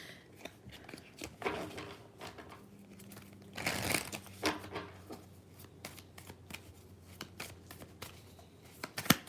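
Tarot cards being shuffled by hand, with a run of papery riffles and slaps in irregular bursts and one louder flurry midway, close and fairly quiet, with no talking.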